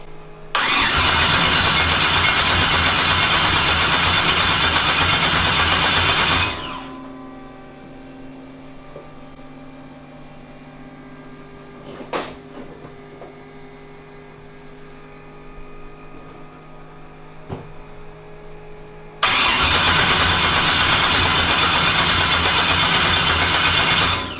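A Chevrolet Nova's new engine, set up to run on nitrous, is cranked over by the starter in a loud, steady churn that does not fire, stops, and after a quiet pause with faint clicks starts cranking again.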